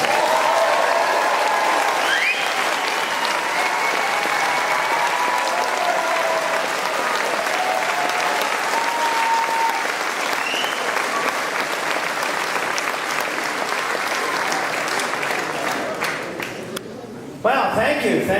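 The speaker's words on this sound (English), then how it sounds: "I've never heard a crowd quite so noisy here before" A concert audience at a music festival in Liverpool applauds and cheers loudly for a performer, a dense sustained wall of clapping with occasional whoops that carries on for many seconds before dropping away near the end.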